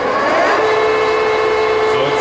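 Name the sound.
metal lathe chuck spinning with carbide insert tooling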